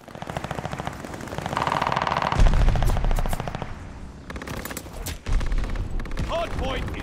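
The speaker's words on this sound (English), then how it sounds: "Enemy's got a death machine coming in." Rapid automatic gunfire from a death machine in a multiplayer shooter video game rattles in dense sustained bursts. Explosions and game voice callouts sound over it.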